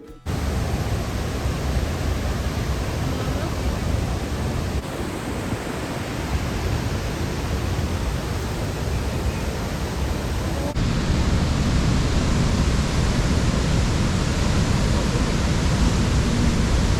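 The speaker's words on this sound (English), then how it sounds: "Now see the spectacular view of Athirapally waterfall from the top." Athirapally waterfall in Kerala, heard from the top, gives off a dense, constant roar of rushing water that swells slightly louder toward the end, with no other sounds breaking through.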